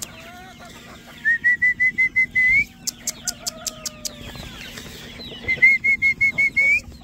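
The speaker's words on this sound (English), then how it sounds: "we got a stuck bird" A bird stuck inside a warm poultry shed flaps repeatedly in quick bursts, mixed with high whistling chirps from young birds and faint background cheeping throughout.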